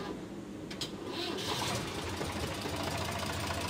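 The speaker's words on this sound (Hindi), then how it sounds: "तो हम ट्रैक्टर को स्टार्ट करके आपको बताते हैं।" Diesel engine of an Eicher 368 tractor, after air was bled from the fuel line, cranks with a brief clatter and then settles into a loud, steady knocking run close by.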